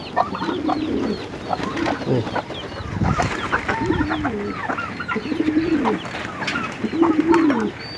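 Close pigeons coo repeatedly in rolling calls, with clucking fowl and other birds mixed in, making a busy, steady chorus.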